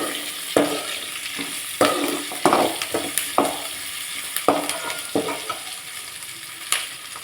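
Chopped large onions sauté in oil in a pan for a taro root curry, sizzling steadily while a spoon scrapes and stirs them in repeated strokes, close and moderately loud, with no talking.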